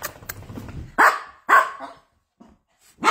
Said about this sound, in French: Ah oui, mes chiens.